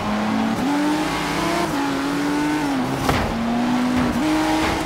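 Ford GT racing car engine in Forza Horizon 3, a loud steady high rev that climbs and drops with gear changes, with brief tire squeal, no talk.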